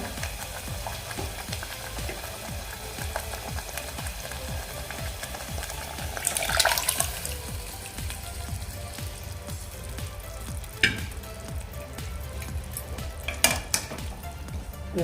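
Spicy kat broth for katachi amti sizzles and bubbles steadily in a hot pan, with a few metallic clinks and scrapes of stirring breaking through the continuous hiss.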